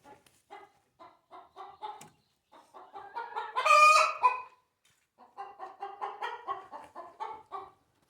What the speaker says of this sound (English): This is one of the chickens that is an escape artist.